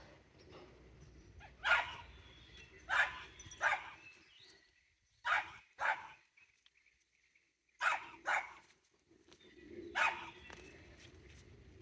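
A dog barks at a bird outdoors in a garden iris bed, giving short single and double barks, each separated by pauses and fairly close, with a quiet outdoor background between them.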